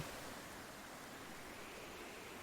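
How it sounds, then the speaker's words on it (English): Strong wind and ocean waves in a video game, a steady, even wash of broadband noise without distinct breaks, fairly quiet and continuous with no voices. "I can't hear what she's saying because of the strong wind and the sound of the waves."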